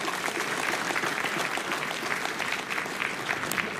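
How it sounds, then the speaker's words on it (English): A large audience claps in sustained, dense applause welcoming a session moderator at a business networking event, steady and full throughout with no speech over it. "please welcome with a huge round of applause our moderator for this session, Mr. Neeraj Agrawwal"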